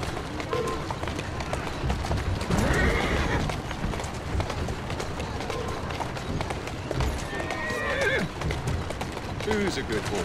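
Horse neighing and whinnying in Assassin's Creed Syndicate, set amid galloping hooves clip-clopping on a street, with a busy continuous game soundscape and several whinnies rising over the running hooves.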